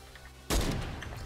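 A single Fortnite gunshot cracks loud and close, a sudden blast followed by a short echoing tail.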